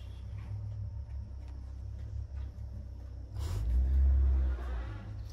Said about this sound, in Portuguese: É o caminhão, ué